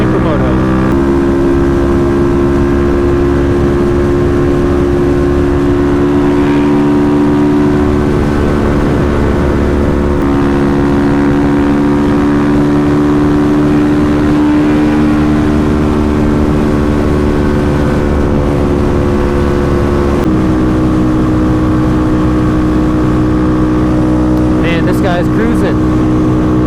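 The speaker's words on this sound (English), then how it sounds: "We got two DRZ 400 SMs and a Husqvarna 701 Supermoto." Two Suzuki DRZ 400 SM and a Husqvarna 701 supermoto motorcycles cruise together, a loud steady engine drone with sustained tones that shift slightly as throttle changes, continuous and close throughout.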